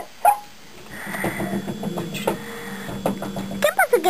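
A small pitbull whimpers and yips in short bursts, close to the mic, with a few sharper yelps toward the end.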